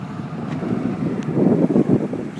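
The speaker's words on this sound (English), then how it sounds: "Really windy here." Strong wind buffets the microphone beside Canyon Lake in Tonto National Forest, a loud continuous rumble that swells and gusts without any speech.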